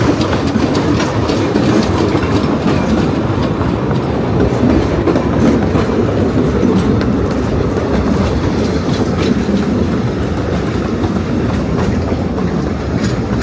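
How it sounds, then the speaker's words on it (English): A small narrow gauge train at Statfold rumbles along continuously, wheels clattering rhythmically on the rails, loud and close throughout with no voices. "we have the real narrow gauge railway to have a little trip around"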